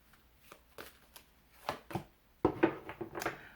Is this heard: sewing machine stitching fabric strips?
no